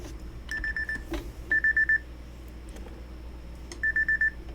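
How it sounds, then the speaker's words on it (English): An alarm goes off in short bursts of four rapid electronic beeps, repeating twice with a gap between, clear over a quiet room hum. "My alarm's going off."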